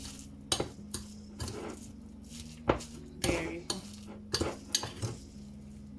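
Corned beef salad being mixed in a bowl for a Jamaican corned beef sandwich, giving a string of irregular scraping and clinking strokes from a utensil against the bowl, close up and moderately loud, with no talking.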